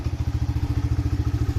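A small quad bike engine idling after warming up, a steady rapid low thumping pulse at an even rhythm, close and moderately loud with no talking over it.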